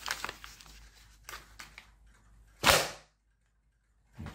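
A folded paper popper is snapped several times, giving a few faint papery flicks and then one sharp, loud crack, close with no talking.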